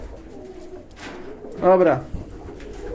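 Pigeons in a loft coo with a short, throaty warble near the middle, close and moderately loud, while someone speaks briefly nearby amid low background murmur.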